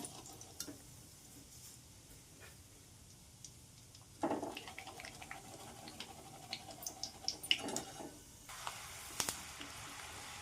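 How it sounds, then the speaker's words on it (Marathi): Peanuts frying in oil for chivda, a faint sizzle with scattered ticks and stirring clatters, a louder crackling burst partway through. "शेंगदाणे छानपैकी तळून घेना"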